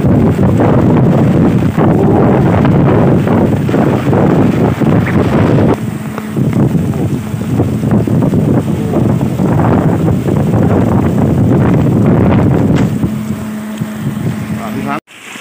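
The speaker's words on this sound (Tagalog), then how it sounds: "Grabe ang lakas ng hangin." Strong typhoon wind from Typhoon Ulysses buffets the microphone in a loud, continuous roar with gusting surges and rain mixed in, while a voice speaks intermittently beneath it.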